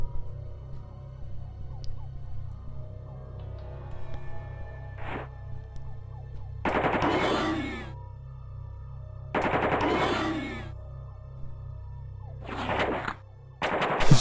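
Game gunfire striking a wall, several short bursts of loud, crackling automatic shots spaced a few seconds apart over a constant low droning background.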